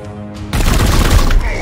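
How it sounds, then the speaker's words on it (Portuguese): Blaster fire in Warhammer 40,000: Chaos Gate – Daemonhunters bursts in abruptly as a loud, dense, crackling volley that keeps going for about a second before easing off. "Mas não meus disparos de blaster"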